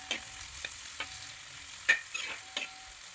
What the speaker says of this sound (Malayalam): വെളിച്ചെണ്ണ ചൂടായി വരുമ്പോൾ 2-3 സവാള അരിഞ്ഞതും 2-3 പച്ചമുളക് അരിഞ്ഞതും കൂടെ ചേർത്ത് കൊടുത്ത് നന്നായിട്ട് വഴറ്റാം.